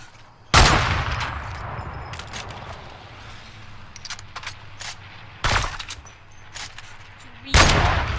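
Sniper rifle fire in a shooter video game on an Asia server: three loud, sharp single shots spaced several seconds apart, each with a brief tail, over quieter game background.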